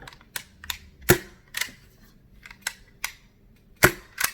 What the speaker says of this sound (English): But this is extremely quiet, and I'm not shooting any BBs out of it.